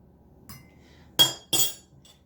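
A spoon stirring cream into a cup of coffee, heard as two sharp close clinks against the cup in quick succession, preceded by a faint tap in an otherwise quiet room.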